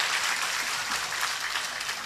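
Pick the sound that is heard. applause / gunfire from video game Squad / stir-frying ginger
applause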